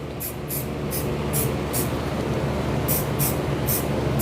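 A spray paint can hisses in short repeated bursts during a live spray paint art class, each spurt sharp and close, with pauses between them over a low background rumble.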